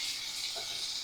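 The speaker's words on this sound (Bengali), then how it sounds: "ভালো করে কষিয়ে নেব।" Mutton with sour yogurt and spices sautéed in a pan over a high gas flame, giving a steady, soft, continuous sizzle with no voices.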